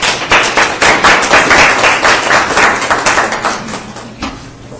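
Evening audience at a fragrance chemicals talk applauding its speakers, a dense, fairly loud wash of many hands clapping that holds steady and then slowly thins, with no talk.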